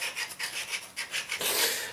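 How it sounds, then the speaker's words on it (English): Scraper rasping across an old linoleum floor, a steady run of short rough strokes close by that grows louder and denser toward the end, with no voices. "if you want to do any more scraping"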